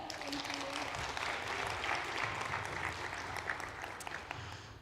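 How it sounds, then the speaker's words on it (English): An audience in the main hall of the Baltic Sustainability Forum 2024 gives a round of applause, a dense, steady clapping that runs through the whole stretch, with talk over it. "Round of applause once more for Lotte."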